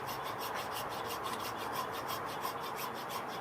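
A small hand saw cuts soapstone for a bear carving. Steady, rapid rasping strokes sound close and continuous, with no talking.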